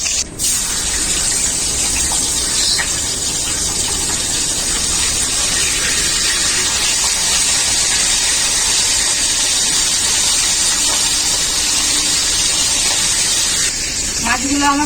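Pomfret fish fried in hot oil, a steady loud sizzle and spatter running throughout with a brief clatter near the end, under soft background talk.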